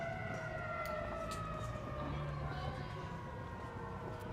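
An ambulance siren heard from a baseball field, a sustained tonal wail that stays steady and moderately distant over constant low rumble and background noise.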